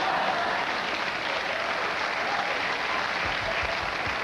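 Studio audience applause on a late-night talk show, a continuous dense wash of clapping that stays steady and fairly loud throughout without talk.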